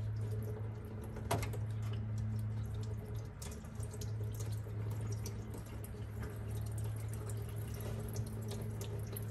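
Steady trickling and splashing of water draining out of a third-generation Camaro engine block, continuous with occasional drips, over a low mechanical hum.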